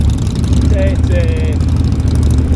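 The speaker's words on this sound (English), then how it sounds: "very difficult for anyone to hear you over the sound of the engine noise" A loud, steady Triumph motorbike engine drone fills the clip during a group ride in Edinburgh, with a brief whine rising over it partway through.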